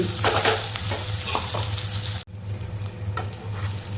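Wet ground masala paste fries in oil for a Maharashtrian soybean curry, a dense, steady close sizzle with faint stirring scrapes throughout and a brief dip in the middle, no talk.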